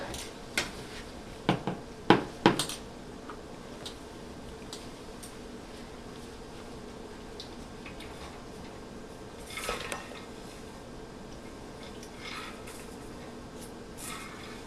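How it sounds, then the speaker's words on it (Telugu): Peanuts roast in a pan with a few sharp metallic clinks and scrapes near the start, then a low sizzle and quiet stirring under faint background voices. "పల్లీలు ఎట్లా వేయించుతావు కన్నా?"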